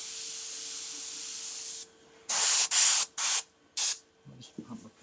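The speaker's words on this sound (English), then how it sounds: "I'm just pretty liberally spraying in from around about 4 to 5 centimetres away, shading that intense white back a little bit" An airbrush sprays white paint onto a freehand skull artwork from a few centimetres away, with a steady hiss for nearly two seconds, then four short close bursts and a few faint rubbing sounds.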